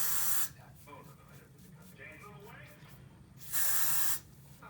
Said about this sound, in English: I spray on a little bit at a time to control where it goes.